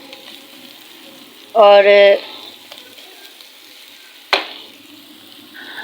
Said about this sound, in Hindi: अभी इसको अच्छे से भून लेते हैं।